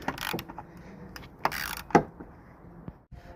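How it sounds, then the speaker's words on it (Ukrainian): A socket wrench with a 10 mm socket works a bolt loose on a Citroen C-Zero during headlight bulb replacement, giving quiet, close ratcheting clicks and a few sharper metallic knocks. "Ось тут головочка на 10. Викручуємо."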